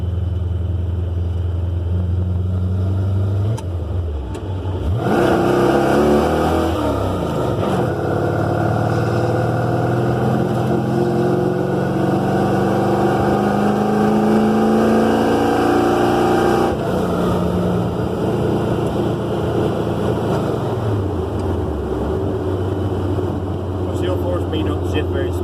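An old truck engine drones steadily while driving, its pitch rising and falling as it revs through rough gear changes, loud and close from inside the cab.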